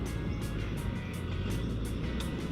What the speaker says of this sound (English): So we got the snatch strap stuck under the car, and now we're going to try and rip it out